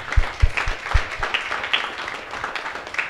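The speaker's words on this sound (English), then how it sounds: "Let's give a round of applause." Audience applause at a conference's closing remarks, a moderate round of clapping with some distinct nearby claps standing out, gradually thinning.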